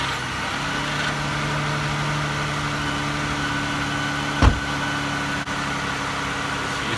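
A 2013 Dodge Avenger SXT, just jump-started, settles into a steady idle with a low, even hum and a single sharp knock partway through, heard alone with no voices.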